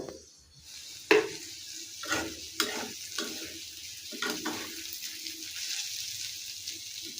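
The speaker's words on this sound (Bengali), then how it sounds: "তেল গরম হয়ে গেলে এক একে দিয়ে দিচ্ছি পেঁয়াজ প্রথমে পেঁয়াজটা ব্রাউন করে ভেজে নিব" Onion frying in hot oil in a pan, with intermittent stirring scrapes and clanks over a continuous moderate sizzle, close and without speech.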